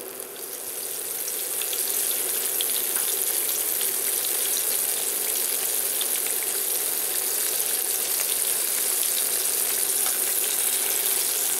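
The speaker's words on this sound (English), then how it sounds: "We're just going to fry these until they're very crisp on the outside" Steady, loud sizzling of fish deep frying in hot oil, a continuous crackling hiss that swells in the first moments and then holds.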